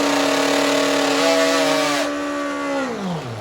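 A nitrous two-stroke drag racing motorcycle screams loud and close at a steady high pitch, then its engine note drops and fades as it runs away down the strip.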